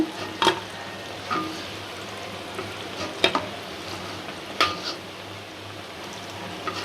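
Egg and lentil fritters fry in a pan with a steady soft sizzle, and a few sharp clinks and scrapes of a utensil against the pan sound up close, with no voices.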